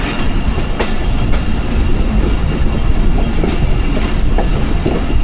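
A train rolls along the Lala Musa–Shorkot branch line in Pakistan, loud and close, with a steady rumbling roar and rhythmic clickety-clack of wheels over rail joints throughout.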